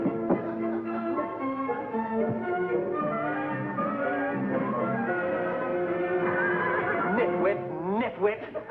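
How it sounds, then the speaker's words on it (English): Horse giving a long, loud whinny that rises and falls over several seconds indoors, followed by a few light hoof clip-clops near the end, with no talking over it. "Mr. Albright, the horse has taken such a liking for you, I'm afraid he'll disturb Margie unless we let him come in."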